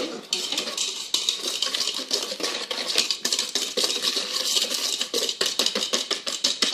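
A spoon stirs sugar in a bowl while cookie dough is mixed, making a quick run of close, scraping clinks and taps that continues without a break.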